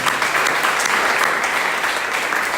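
A church congregation applauds together, a dense steady wash of many hands clapping at close range that carries unbroken through the whole moment.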